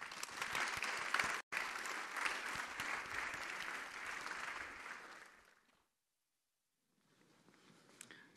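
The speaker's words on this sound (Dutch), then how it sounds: "Mag ik een hartelijk applaus voor Treintje van de Wouw." An audience claps warmly at the E. du Perron lecture and prize-giving at Tilburg University. The full, close applause runs for about five seconds, then dies away into silence before a faint stir of room noise returns.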